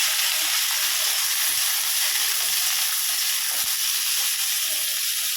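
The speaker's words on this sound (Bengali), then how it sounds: "কড়াতে তেল দিয়ে দিলাম, তেল গরম হয়ে গেছে, সবজি দিয়ে দেবো।" Vegetables frying in hot oil in a karahi, a steady close, bright sizzling hiss that stays even throughout, with a few faint low knocks beneath.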